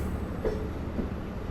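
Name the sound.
Long Island Rail Road passenger train pulling forward at station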